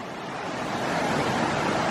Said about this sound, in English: we got water running right underneath the bridge